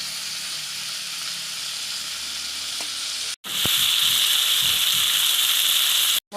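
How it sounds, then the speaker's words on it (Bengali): Cauliflower florets frying in hot oil with salt and turmeric, a steady close sizzle that jumps louder with hissing steam as the pieces are stirred. "ফুলকপিগুলো ভেজে নিয়েছি।"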